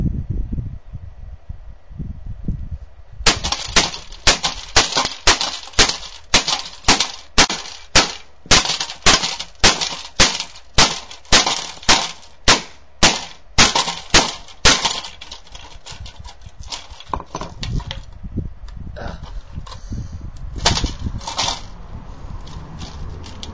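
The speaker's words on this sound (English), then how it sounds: "I'm smashing a Freeview box." A Freeview DVB-T set-top box is smashed up close with about twenty loud, regular impacts, each a sharp crack of breaking plastic and electronics, followed by scattered rattling and scraping of broken pieces.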